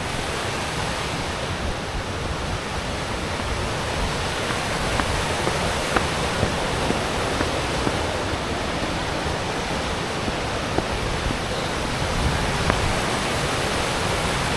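A fast-flowing waterfall at Toorongo Falls, icy water pouring in a steady, dense roar close by with no pauses and no voices.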